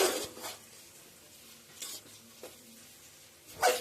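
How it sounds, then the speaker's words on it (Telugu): Rice being stirred together with masala and potato pieces for a potato biryani, giving soft scraping and clinking of a spoon against the pot in a few separate bursts, with light sizzling in between. "బాగా రైస్కి మసాలాలు ఆలుగడ్డ అన్నీ పట్టేలాగా కలుపుకోవాలి"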